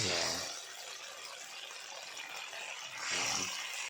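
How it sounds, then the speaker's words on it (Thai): Water splashes and gushes into a pot for a northern Thai dish, a close, steady pour with stronger bursts at the start and end, while someone speaks faintly. "เติมน้ำลงไปนั่นเอง"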